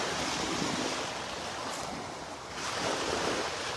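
Surf washing steadily onto a wide, empty beach in North Naples, Florida, a continuous broadband rush with a slight dip and swell midway, close and fairly loud, no voices.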